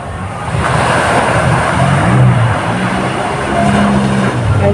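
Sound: jet ski riding on sea

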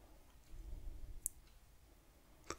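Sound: computer mouse clicks

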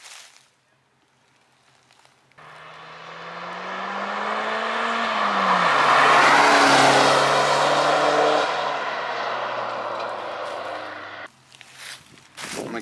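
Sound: car driven hard around a corner

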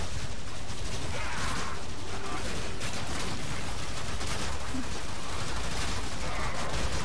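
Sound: heavy gunner gunfire and explosions in video game Warframe

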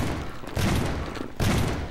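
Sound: gunshots in video game

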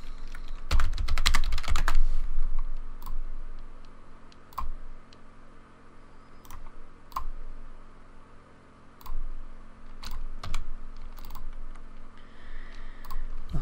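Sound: typing on computer keyboard writing HTML CSS code

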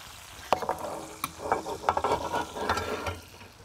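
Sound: basting ribeye with sizzling brown butter

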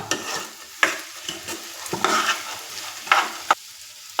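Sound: stirring mung bean salad mixture in a pan

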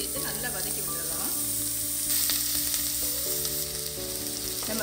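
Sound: onion, curry leaves and raw banana sautéing in oil

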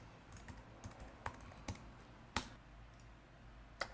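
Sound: mouse clicking and keyboard typing to add a list

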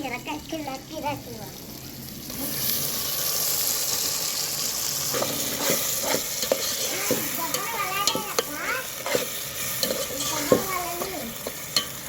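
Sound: coriander and green chilli paste frying in oil, stirred

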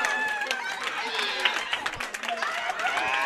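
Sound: bowling championship crowd applauding a winning strike

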